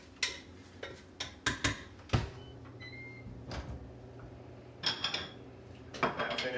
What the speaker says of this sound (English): Give that a quick little stir to pick up any extra